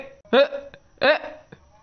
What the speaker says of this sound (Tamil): ஓனர் எனக்கு விக்கல் எடுக்கு